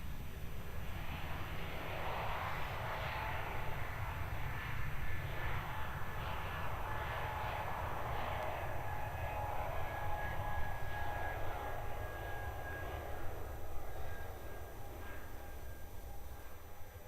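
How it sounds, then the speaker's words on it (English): A Qantas Link airliner rolls for takeoff toward Canberra at Melbourne Airport, a steady broad engine roar holding at moderate distance for the whole stretch, with a faint whining tone running through it. "Qantas Link 1280. There we go. Rolling, heading back to Canberra."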